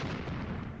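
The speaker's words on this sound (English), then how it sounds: "my artillery is getting closer." Distant artillery fire in the war game Graviteam Tactics, heard as a dense, continuous low rumble of overlapping booms, steady and fairly quiet through the brief moment.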